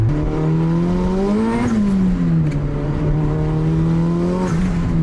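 Turbocharged Honda Civic said to make 400 horsepower, its engine droning loud and close as it drives, pitch rising and falling with throttle over a steady rumble.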